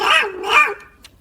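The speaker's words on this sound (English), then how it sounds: "You hear that? It's just the dog." A dog barks twice, sharp and close, in an indoor home setting, each bark short and loud, then a brief quiet tail.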